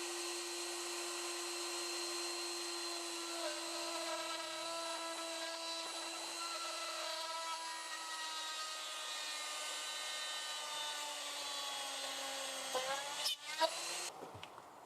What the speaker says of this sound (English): Let's crack on and drill some holes.